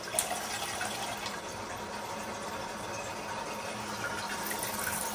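Bidet spray jetting water upward into a toilet bowl on a hands-free bidet seat, a steady pressurized hiss and gush that runs without a break for several seconds at a fairly constant level.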